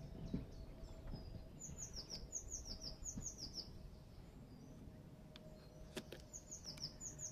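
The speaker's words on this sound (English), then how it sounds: "as you can hear the birds, the sounds of the birds" Several birds singing in Richmond Park among spring flowers, with repeated high chirping phrases in bursts over steady low outdoor background noise, moderately distant.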